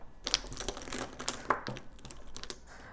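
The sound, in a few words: unwrapping a parcel of 14 Emax Design makeup brushes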